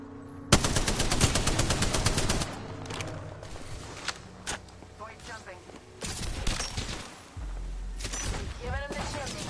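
Automatic weapon fire in the battle royale shooter Apex Legends, loud rapid bursts and a sustained volley at the start, then scattered shots and game effects with brief voice callouts from the game.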